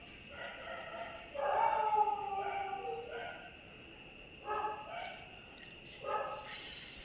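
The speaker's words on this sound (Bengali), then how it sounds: "আর কুকুর চিৎকার করে যাচ্ছে।" A dog yelps and barks in short, whimpering bursts outside at night in the rain, faint and somewhat distant over a soft steady hiss of rainfall.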